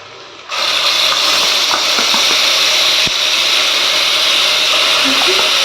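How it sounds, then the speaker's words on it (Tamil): Onions sauté with ginger garlic paste in a hot pan for a Tamil intestine fry and curry recipe, a loud steady sizzle and hiss starting abruptly and continuing throughout, with faint stirring clicks. "ஆனியன் வந்து நல்லா வதங்கிடுச்சுங்க இந்த டைமில் நம்ம இஞ்சி பூண்டு சேர்த்துக்கலாம்"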